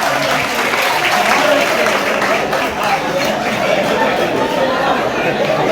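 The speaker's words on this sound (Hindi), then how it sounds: "जोरदार तालियां।" An audience applauds at a Hindi poetry gathering (kavi sammelan and mushaira) for Teacher's Day, with sustained loud clapping mixed with crowd chatter and a few voices talking over it.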